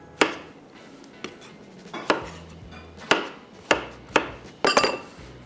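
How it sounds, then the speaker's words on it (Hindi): A knife chops zucchini into thick pieces on a board, seven or eight sharp, distinct cuts landing at an uneven pace, close and clear with quiet pauses in between. "ये भी काट लेते हैं और इसको भी थोड़ा सा ज़रा थिक पीसेज में"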